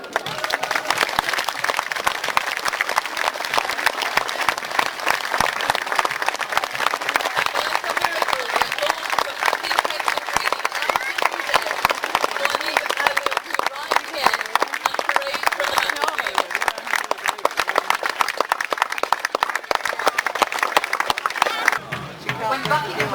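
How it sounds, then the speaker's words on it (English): Audience at a Battle of Naseby reenactment during a 2004 history festival applauding, dense sustained clapping from a large outdoor crowd running unbroken for over twenty seconds before tapering off. "you can thank both sides in the Battle of Naseby with your applause"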